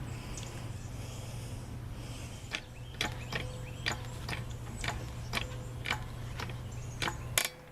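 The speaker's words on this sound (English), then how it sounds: "After several pumps, it became extremely hard to pump the handle a full throw" Handle of a Central Machinery 10-ton hydraulic log splitter being pumped, giving a series of sharp mechanical clicks and clunks roughly every half second over a steady low hum, close and fairly quiet.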